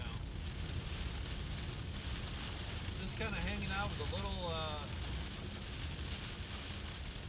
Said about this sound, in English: Torrential rain right now.